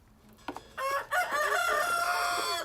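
Rooster crowing in a backyard, a loud, drawn-out cock-a-doodle-doo call that rises after a couple of short clucks and holds steady close to the listener, with no talk over it.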